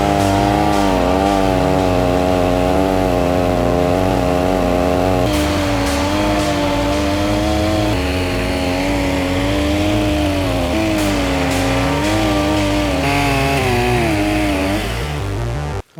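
A small-engine chainsaw with an aggressive chain cuts into a tree, its engine held at a loud, steady high-revving buzz throughout, with slight pitch wavers as it bites into the wood.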